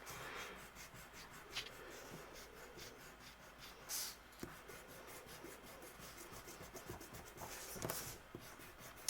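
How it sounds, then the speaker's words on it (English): Pencil drawing of a star on paper being erased with a rubber eraser, soft dry scrubbing strokes that rub steadily with brief louder bursts, close and quiet, with no talking. "So I'm just going to erase everything inside."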